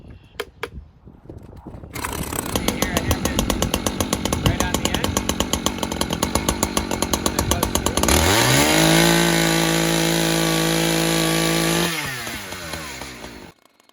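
A chainsaw starts with a few pulls, then idles and revs as it bites into a log, cutting 16-inch firewood. The engine drops into a deep, strained drone mid-cut and winds down at the end, loud and close.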